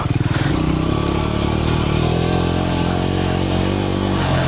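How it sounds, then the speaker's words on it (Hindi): A 2026 Triumph Scrambler 400X motorcycle engine idles and burbles steadily with a loud, rough, throaty exhaust note, close by, and no voices. "so again exhaust note bike का बहुत प्यारा है"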